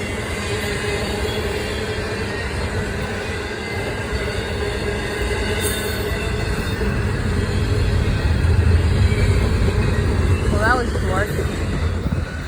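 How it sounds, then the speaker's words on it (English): A short intermodal freight train of about 15 cars rolls past at a steady pace. A loud, continuous rumble of wheels on rail swells slightly toward the end, with brief squeals. "The next train of the day was this intermodal train moving at the same pace that almost every other train was moving at."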